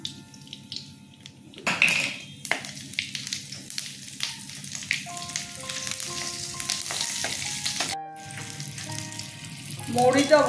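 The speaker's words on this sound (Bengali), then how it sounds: "কাঁচা লঙ্কা আর মৌরি এবার ফোড়ন দিয়ে দিলাম।" Green chillies and fennel seeds sizzle in mustard oil in a kadai, a continuous crackling fry with occasional utensil clanks and a brief splash of running water.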